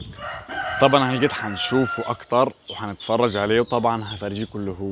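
A year-and-a-half-old Brahma rooster on a farm crows, one drawn-out call heard partly beneath someone talking steadily nearby.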